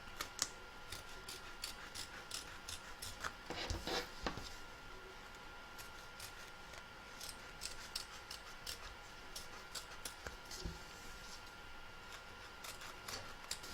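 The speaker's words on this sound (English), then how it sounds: "run your scissors around the edge, taking care not to cut the stitching" Scissors snip quietly and repeatedly through fabric, trimming around the edge of a machine-embroidered in-the-hoop snowman, small crisp cuts at an uneven pace against a quiet room, with a couple of louder handling knocks.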